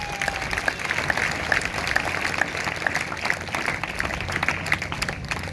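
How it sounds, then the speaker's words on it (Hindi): A church congregation at a Sunday service claps loudly and steadily, a dense, continuous patter of many hands that holds at even strength throughout, with no voices rising above it. "अगर आई है तो जोरदार तालियां बजाएंगे।"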